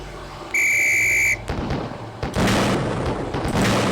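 A sharp referee-style whistle blast signals the start of fire on a police shooting range in the game Police Quest SWAT, followed by heavy buckshot gunfire, a loud boom and then further shots.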